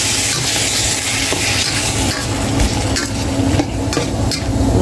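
Sweet and sour chicken with vegetables and a pineapple-fish-sauce mix being stir-fried in a pan, a loud steady sizzle broken by repeated clanking scrapes of a utensil stirring, with no talking.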